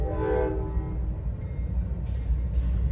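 An Amtrak train rumbles past close by, its horn sounding loudly at the start over the steady heavy roll of the rail cars.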